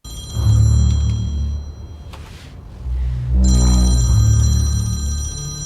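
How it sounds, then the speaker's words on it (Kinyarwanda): A telephone rings in a film scene, two stretches of loud electronic ring tones over a low rumble, with no one speaking. "Telefone irasona."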